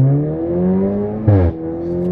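Audi B9 A4 with a loud exhaust revving hard toward redline, a steady rising engine drone with a brief louder burst midway, close and alone.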